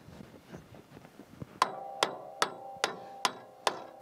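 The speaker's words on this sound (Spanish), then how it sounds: "voy a ir a por el martillo para intentar meter este burlón" A hammer drives a pin into a farm plough with five sharp, evenly spaced metallic blows, each ringing briefly, after a few quieter knocks and handling sounds.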